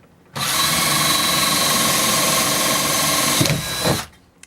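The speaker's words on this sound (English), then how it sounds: "Now we're just adding some little screws to hold it in place." A power drill drives small screws into copper-aluminum sheet metal on a woodstove install inside a school bus conversion, whirring steadily and loudly for about three seconds, then briefly dipping and revving before stopping.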